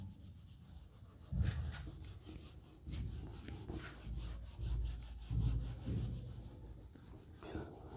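Writing rubbed off a classroom board during a physics lecture, heard as several close, scratchy rubbing strokes in uneven bursts with short pauses between them.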